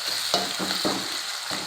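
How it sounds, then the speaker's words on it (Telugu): Chicken masala stirred in a hot pan, a quiet continuous sizzle broken by four distinct scraping strokes of the spoon at a relaxed, even pace. "ఇలా వేగేదాకా కలుపుకోవాలి"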